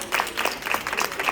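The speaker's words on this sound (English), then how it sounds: "Let's give her one more round of applause." Audience applause at an entrepreneurship event, a dense wash of many hands clapping continuously at moderate loudness for a short burst.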